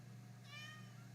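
A cat gives one short, faint meow against a low steady background hum, no talk during the call.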